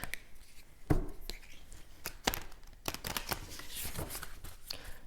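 Oracle cards are shuffled and handled close by, giving sharp riffling snaps and soft papery slides in irregular bursts, fairly quiet.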